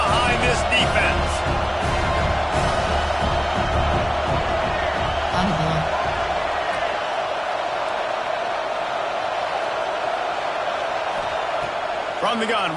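A football stadium crowd roars on third down, a dense steady wall of cheering under a broadcast announcer's voice, with the noise staying loud throughout.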